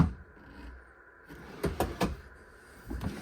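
Soft-close drawers in a 2023 Riverstone Legacy 39RKFB luxury RV slide shut with a few quiet, muffled knocks and thumps, close and low in level.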